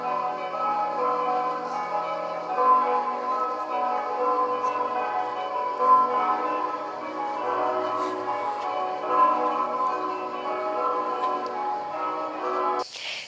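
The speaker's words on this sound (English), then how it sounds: "can you hear the bells of the Mother Church?" Church bells of the Mother Church in Gratteri, a medieval village in Sicily's Madonie area, ringing out across the landscape in a sustained, resonant peal with overlapping tones that carry on steadily.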